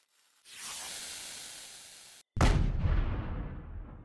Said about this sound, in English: This was the Salute rocket.